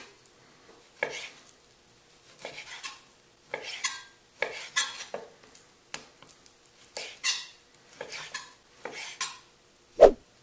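A knife slicing beef into half-inch strips on a cutting board, heard as a series of distinct close cuts and taps spaced irregularly, with one sharper knock near the end and no talking.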